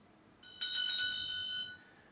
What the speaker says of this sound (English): we will have a bell being rung